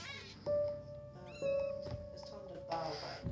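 Minecraft cat meowing in short bursts, a couple of clear mewing cries with a rising tone, set against game sounds and people talking over it.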